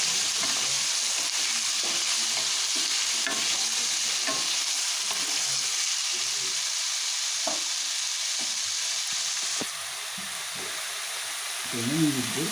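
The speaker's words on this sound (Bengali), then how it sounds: "সমস্ত সবজিটা একসাথেই ভালো করে নাড়াচাড়া করে একটু ভেজে নিচ্ছি" Mixed winter vegetables stirred and fried together in a pan, a steady loud sizzle with repeated scraping stir strokes throughout, the frying easing slightly near the end.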